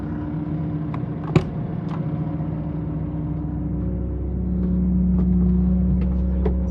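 A 2017 CLAAS Scorpion 7044 telescopic loader, 7 m reach and 4.4 t capacity, runs with a steady low engine drone. It rises slightly in load toward the end, with a sharp click near the start.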